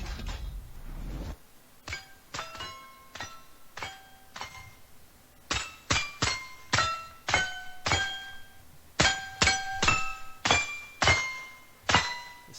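The Star Spangled Banner rings out as a melody of metallic pings from shooting targets struck in quick succession, each clear clanging note decaying, after a brief low rumble at the start.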